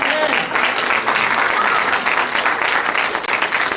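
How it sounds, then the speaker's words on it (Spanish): Dense, loud applause fills a church service, steady and sustained from start to finish with no break. "Un aplauso para nuestro Señor, Padre Celestial. Y un aplauso para todos los jóvenes que nos visitan esta tarde."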